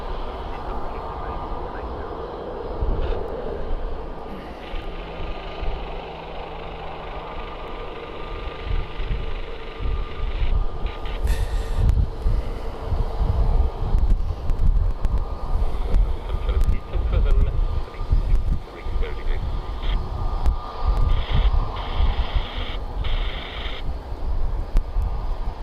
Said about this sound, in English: that Lufthansa 319 taxis in.